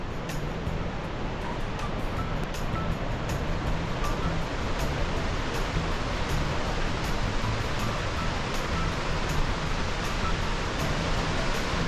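Waterfall at Fall Creek Falls, a constant broadband roar of falling water, loud and unbroken throughout with no voices.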